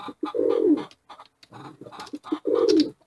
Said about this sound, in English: You're just a little psycho bird.